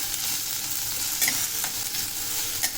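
Tempering for sambar sizzling in hot oil, a bright continuous crackle with occasional sharp pops and light stirring scrapes, close and without talk.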